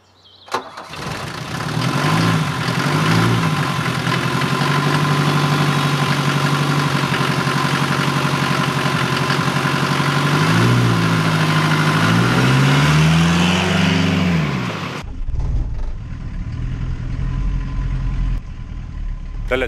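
An old car engine cranks, catches and settles into a loud, steady idle close by, with a couple of revs rising and falling mid-run before it cuts off into quieter background rumble.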